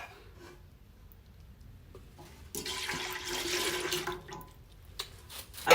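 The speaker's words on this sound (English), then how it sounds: "I add my milk." Milk pours into a pot for homestyle Southern mac and cheese, a quiet start swelling into a steady rushing stream of liquid for a couple of seconds before tapering off.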